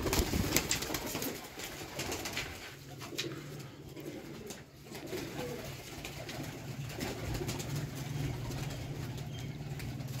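Racing pigeons coo in soft, repeated low calls near the loft, with rustling and faint background noise.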